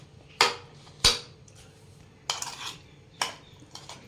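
Raw mango and onion salad being mixed with spices, heard as four or five distinct sharp clinks and scrapes of a spoon against a plate or bowl, spaced irregularly and close up in a quiet room.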